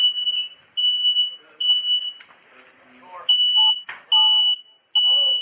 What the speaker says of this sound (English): we can hear the fire alarm begin going off when the SWAT team blows in